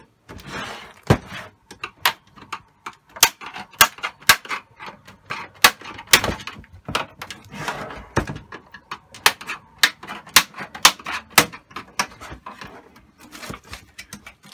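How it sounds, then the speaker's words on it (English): Plastic clips of an Xbox One S console case snapping loose as a screwdriver pries around its edges, a series of sharp, close clicks and cracks at irregular intervals, with scraping and handling between them. "Get the screwdriver in between the two edges. You want to go around the whole console. You want to hear the snap."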